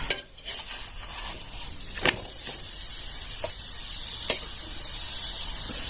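Soft, steady sizzle of a flatbread (poli) frying in ghee on a pan, with occasional light scrapes and taps of a utensil against the metal.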